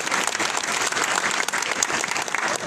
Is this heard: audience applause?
yes